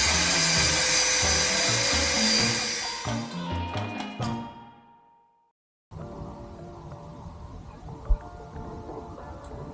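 A power tool cuts through wood held between two boards during a camper van build, loud and close in a continuous grinding whine that dies away into silence before quieter handling noises.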